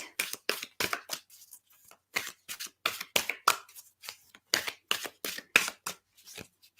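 Large, oversized reading cards being riffled and mixed by hand, with quick bursts of crisp papery flutters and slaps in an uneven, stop-start rhythm, close and clear with no talking.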